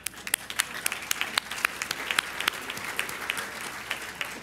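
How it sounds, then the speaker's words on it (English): Audience applause at an architecture design awards ceremony: many hands clapping steadily in a hall, moderately distant, with sharp individual claps standing out throughout. "I have to clap"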